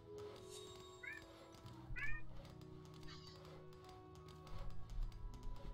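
A pet cat meows a few short times over the course of a few seconds, close and fairly clear, over a steady hum of video game music and faint clicking.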